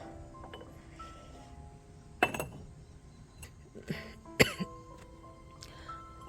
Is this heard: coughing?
yes